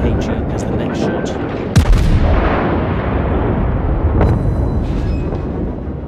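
Heavy naval gunfire from a tier battleship in the World of Warships game, with broad booming salvos and a sharp blast near the two-second mark, rumbling continuously under a faint voice.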